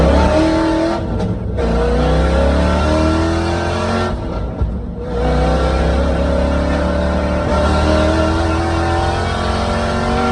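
A 1995 Ford Mustang 5.0 drives loudly up close, its engine droning and rising through the gears with brief dips between shifts, no speech over it.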